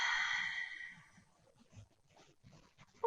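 A soft exhale during a prenatal Pilates mat workout, a brief breathy rush at the start that fades quickly, followed by quiet low rustling and faint background movement.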